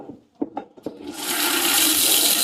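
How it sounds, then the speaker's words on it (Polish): A few soft clunks, then a steady hiss of water spraying from the nozzles of a paint roller and trowel washer starts up and keeps going, loud and close. "tu odpalamy wodę. I teraz, no, i tu leci nam woda, dysze."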